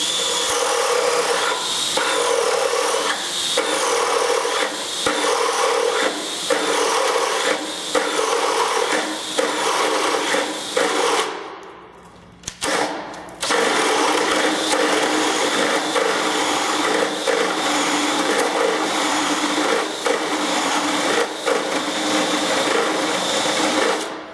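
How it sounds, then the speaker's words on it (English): A hole saw bores into a wooden door to core out a mortise lock pocket, a loud steady grinding whine running continuously, dropping out briefly midway before resuming at full strength. "we're in our third hole for our mortise lock pocket, so let's core this one in there"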